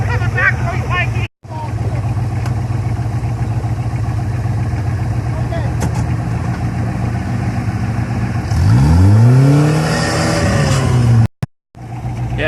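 Toyota off-road vehicle driving with a steady engine drone and a sweeping revving burst near the end, close and loud, with voices talking over it.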